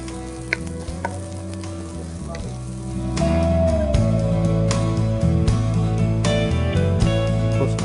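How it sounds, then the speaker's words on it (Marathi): Onion roasting in a pan with garam masala gives a steady sizzle that grows louder partway through, running continuously beneath a sustained tonal backing. "कांदा लालसर होईपर्यंत आपल्याला रोस्ट करायचा आहे तो."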